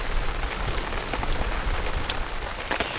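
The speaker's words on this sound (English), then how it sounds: "what would camping be without rainy weather?" Steady rain patters on surfaces all around a campsite, a dense continuous hiss with occasional louder drops, no voices.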